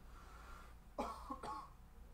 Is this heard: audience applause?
no